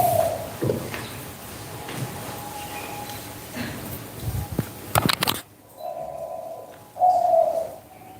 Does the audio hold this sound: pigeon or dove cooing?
yes